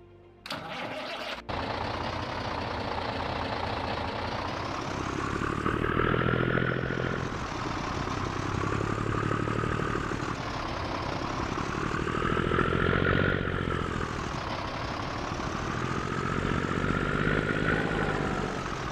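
Peterbilt truck engine in Farming Simulator 22, heard from inside the cab: it starts with a sharp crank, then settles into a loud, deep, continuous drone that rises and falls in slow revving swells, with no talk.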